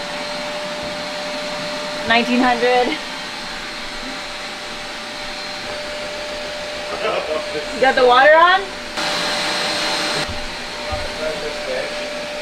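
A vacuum cleaner run off a 240-volt portable power station hums steadily across the whole stretch, with people talking over it in short bursts and a brief louder surge of noise near the end.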